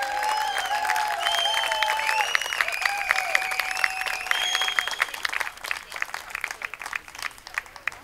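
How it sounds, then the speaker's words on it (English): Crowd at a Kent State college baseball game against Bowling Green applauding and cheering, sustained clapping with whistles and shouts that thins out toward the end. "a round of applause for a man who definitely bleeds blue and gold through and through, Mr. Greg Floyd."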